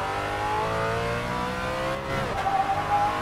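A Ford Mustang Shelby GT350R accelerates out of a corner at Tsukuba circuit, its V8 droning steadily from inside the car with a rising engine note near the end.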